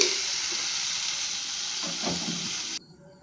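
Steady, loud sizzling of chopped tomatoes frying in a pan, with a soft stir partway through before the sound cuts off abruptly.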